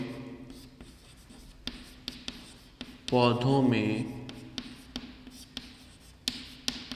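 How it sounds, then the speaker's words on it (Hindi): Pen scratching steadily across paper as notes are written during a classroom science lesson, with quiet intermittent strokes and a brief louder burst, under a speaking voice. "तो हम यहां पे थर्ड पॉइंट पे लिख देंगे"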